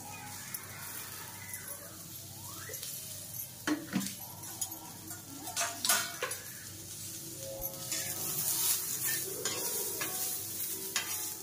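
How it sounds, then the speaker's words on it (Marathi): Onion and coconut sizzle as they roast in a hot pan while a utensil stirs and scrapes against the metal, with occasional clinks over a steady frying hiss. "कांदा आणि खोबरं हे एकदमच भाजून घेऊया"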